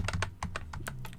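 Rapid typing on a computer keyboard while entering a number into a baseball card listing program, then a tab press: about eight crisp, close keystrokes in an uneven rhythm, with no talking.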